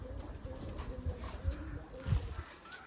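Giribaz flying pigeons coo faintly at a farm, low soft calls over dull thumps and background rustle.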